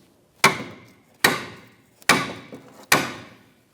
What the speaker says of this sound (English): Try to tap this in.